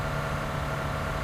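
A car engine in a battle royale video game hums with a steady low drone and holds constant at moderate loudness through the short stretch, with no voices over it.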